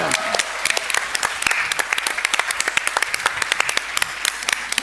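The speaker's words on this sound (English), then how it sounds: "can we please put a big round of applause for Cece, Martin, Tim, and Darrell" Audience members clap after a debate at a women-in-travel event in Singapore, sustained applause with sharp individual claps standing out against a dense crowd wash, loud and close throughout.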